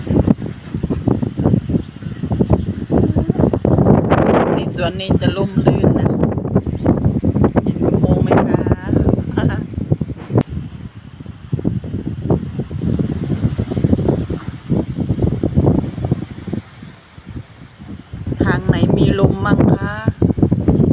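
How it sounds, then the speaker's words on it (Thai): Strong wind gusts around a house and its garden, loud buffeting rushes that rise and fall against the microphone, with someone speaking briefly partway through. "ฟังเสียงลม"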